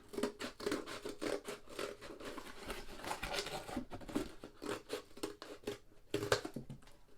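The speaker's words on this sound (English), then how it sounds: "just cut that flap down" A cardboard shipping box flap being cut down, a quiet series of rapid scratchy cuts and crinkles in an uneven rhythm, close and soft with no talking.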